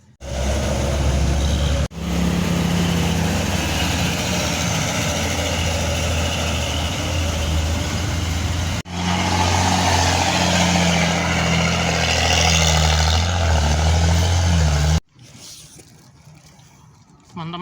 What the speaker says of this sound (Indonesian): Sementara hancur, banyak truk-truk yang lewat membawa material.